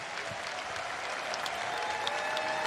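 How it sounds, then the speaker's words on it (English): An audience at a Special Olympics event in Orlando applauds, with a dense, sustained patter of many hands clapping at an even level throughout. "give them a round of applause"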